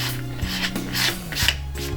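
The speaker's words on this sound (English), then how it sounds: "Now I even like to flip it backwards and squeegee it on the other side as well." A squeegee is dragged over an adhesive vinyl decal, making close, rasping rubs that come in a few quick repeated strokes with a slight mechanical squeak.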